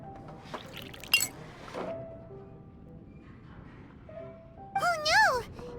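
Glass clinks and juice pours in a video game scene, a sharp clink near the start followed by a brief liquid pour, with game dialogue voices and music tones around them.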